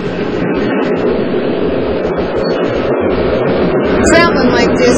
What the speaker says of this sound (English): Traveling like this with the old steam train here pulling us